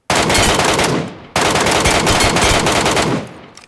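Automatic gunfire in the video game Metro Royale comes as two long, loud, rapid bursts separated by a brief pause, with no talking over it.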